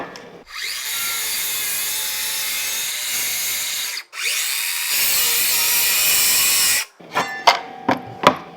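A circular saw cuts through wood along a marked line in two long, loud, steady whines separated by a short pause, followed by a few sharp knocks and rasps.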